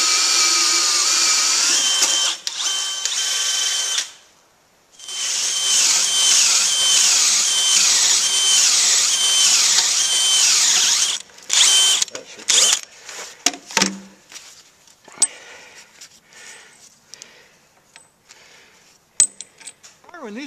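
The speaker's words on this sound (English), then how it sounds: "after I drilled the initial hole through for the bolt" A power drill bores bolt holes through a wooden bunk for a logging sled, with a loud, close, sustained whine in two long runs, then clatter and handling sounds while people talk nearby.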